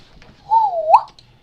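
A single drawn-out whistled note, sliding slightly downward and ending in a brief upward flick, sounds alone in the dark from some distance, faint and eerie with no talk over it.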